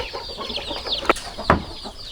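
Chickens cluck and chatter in a coop, several birds close by with overlapping calls and a couple of sharper squawks or wing flaps, no speech.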